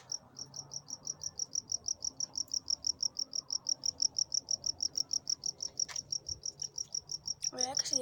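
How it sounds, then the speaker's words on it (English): A cricket chirps in a steady, rapid pulse, about four high chirps a second, continuing throughout against a quiet night background. "Wait, I can see the crickets."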